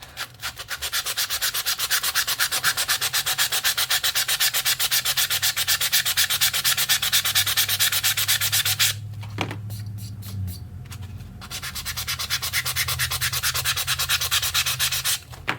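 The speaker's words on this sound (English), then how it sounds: "I'm sure you all know what sanding looks like" Coaster edges are hand-sanded to remove stray paint: a close, rapid rhythmic scratching rub runs steadily, breaks for a moment with a few light knocks, then resumes at the same pace.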